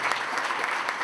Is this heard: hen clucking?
no